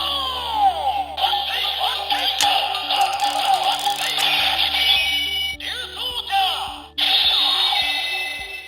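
A Ryusoulger DX changer toy with the TV Magazine RyuSoul inserted emits electronic chimes, sweeping tones and a looping jingle, close and clear with bright metallic pings.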